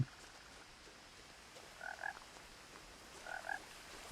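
A frog in the video game What Remains of Edith Finch croaks twice, quietly, with each croak a short burst of a few pulses standing out over a faint ambient hush.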